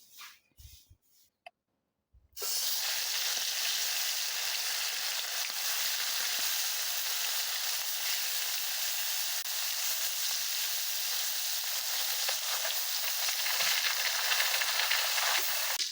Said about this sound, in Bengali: আমি এখন এক এক করে মাছগুলো ছেড়ে দিব।